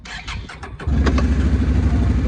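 An ATV engine cranks with a few quick pulses, then fires and settles into a loud, steady, rumbling idle close by, with no talking over it.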